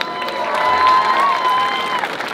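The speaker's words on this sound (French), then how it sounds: "les applaudir" Brief burst of crowd applause and cheering for a team finishing a 25-hour endurance race, a dense wash of clapping for a couple of seconds with a faint tonal whine running through it.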